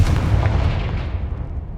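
A Confringo spell blast goes off in Hogwarts Legacy, one heavy booming impact up close that rolls off and decays over a second or so.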